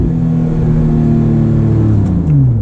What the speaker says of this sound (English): It's got an amazing exhaust.